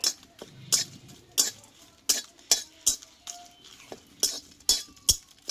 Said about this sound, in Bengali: এটা একটু আমি আগে হালকা করে ভেজে নেব